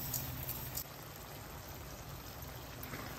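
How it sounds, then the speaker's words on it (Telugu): Gongura pickle mixture with salt and turmeric bubbling and sizzling in a pan, a steady, dense hiss of cooking with no talk. "చూడండి, చక్కగా ఉడుకుతుంది కదా."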